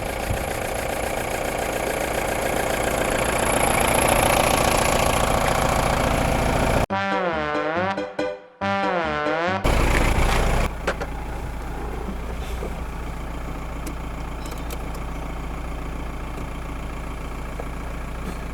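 An old vehicle with oil leaks runs loudly, pauses for a whirring, cranking start attempt, then settles into a steady rough idle.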